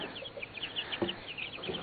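Young cockerels being reared for meat cluck softly and repeatedly nearby, short quiet calls in an uneven rhythm.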